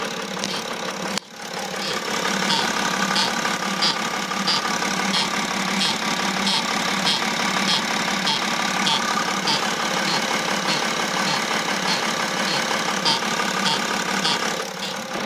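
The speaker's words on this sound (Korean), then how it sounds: "이 차량 지금 증상 자체가 엔진에서 이상한 소리가 난다고 오셨는데" A BMW X6 (E71) diesel engine idles steadily up close, with a repeating high-pitched chirp from the engine ticking over the low rumble throughout.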